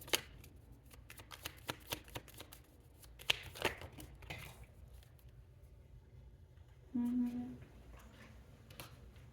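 A deck of tarot cards shuffled by hand in a quiet room, with crisp riffling bursts and scattered snaps and slaps, followed by a short, louder flutter near the end.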